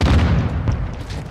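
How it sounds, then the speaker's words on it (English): A mortar strike in Modern Warfare II explodes as a loud, dense low rumble with sustained booming that rolls on without a clear break and fades slightly toward the end. "Friendly mortar strike on the way."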